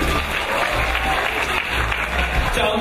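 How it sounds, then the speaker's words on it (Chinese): A studio audience at a birthday fan event applauds steadily, giving dense, continuous clapping from a crowd that holds at an even, loud level throughout. "掌声再热烈一点"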